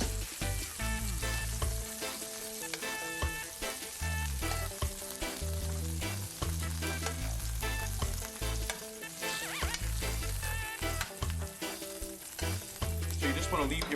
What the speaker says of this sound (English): the shrimp, they don't take long to cook, so it's only been a couple minutes, like a minute on each side